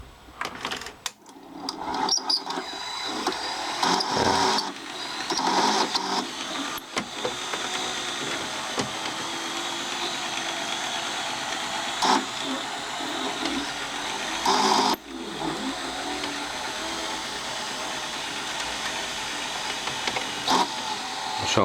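A steady mechanical whirring and motor drone from a Ferguson 3V36 VHS recorder rewinding tape, with a few clicks and clunks near the start and a brief dip midway.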